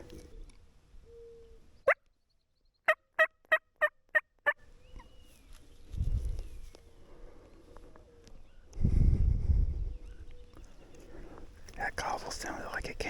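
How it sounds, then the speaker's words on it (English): A Rio Grande wild turkey gobbles in a rapid burst of six sharp pulses during a spring hunt in Colorado, moderately distant, with whispered talk and rustling around it. "That gobble sounded like it came from the ground."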